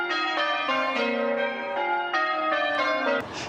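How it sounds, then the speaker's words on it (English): A peal of church bells in Stockbridge rings continuously, strikes overlapping in an uneven rhythm, with a brief clatter cutting in right at the end. "Well, the church ringing its bells."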